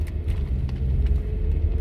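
A car engine rumbling low and steady while driving, a close, continuous drone inside the cabin with light road noise and a few faint clicks over it.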